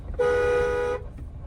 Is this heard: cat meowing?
no